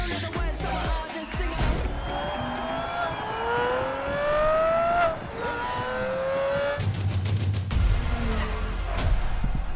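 Race car engines from a car racing video game trailer, several rising engine tones sweeping upward in pitch with revving and passes, fairly loud and continuous, with heavy low rumble entering near the end.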